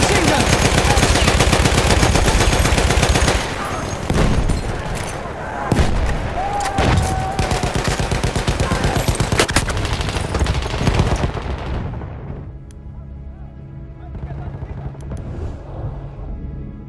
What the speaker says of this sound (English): Spotted the machine gun!